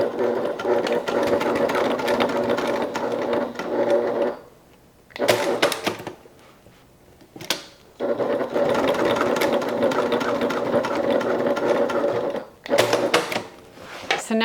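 A sewing machine stitches a zipper overlay in place on a crossbody bag, running in two long close bursts separated by quiet pauses with brief clicks and handling sounds.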